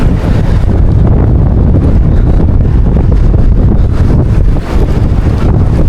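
Gusty wind blasts continuously against the microphone at the seashore, a dense rushing roar over faint surf, as it blows a fishing net about.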